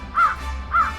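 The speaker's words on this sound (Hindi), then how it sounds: "उतने में वहाँ आई एक कौवा।" A crow caws twice in quick succession, loud and close, each call a short harsh rasp with a brief gap between them, no talk.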